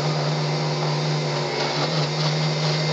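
A blender runs at low speed chopping cheesecake ingredients, a steady, loud, close motor whir with a constant hum and no pauses.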